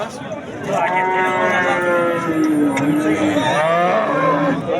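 A cow at a livestock market in Sirdaryo district lets out a long, loud, drawn-out moo close by, followed by a second moo, with crowd noise and people talking in the background.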